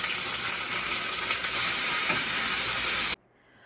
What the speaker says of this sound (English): It's time to add our beet greens.